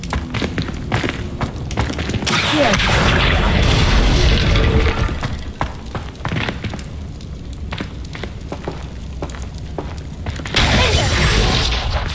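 Booming blasts from the Confringo spell in Hogwarts Legacy, a series of loud thumping explosions with crackling debris, dense and close, filling the scene in repeated bursts.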